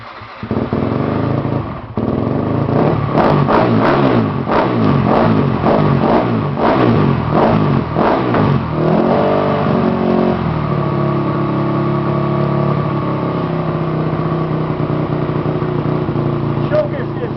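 A 2003 Yamaha WR250F dirt bike engine cranks and catches, then revs in several rising and falling bursts before settling to a steady, loud idle close by.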